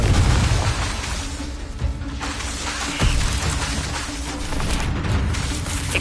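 Confringo fire-blast spell explosions in Hogwarts Legacy, booming bursts and rumbling crackle in dense succession, loud and broadband, with a sharp hit around the middle.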